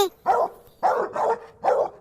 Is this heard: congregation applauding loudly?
no